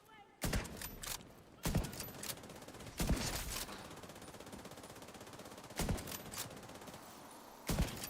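Bursts of video game gunfire in a squad shooter match, several sharp volleys spaced a second or two apart, loud against a steady background of game sound.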